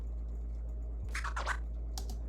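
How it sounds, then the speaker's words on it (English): Short DJ record-scratch samples, a few quick rasping scratch bursts over a low steady hum, moderately faint and with no talking. "I looked up this video that was just like record scratching sounds, DJ samples."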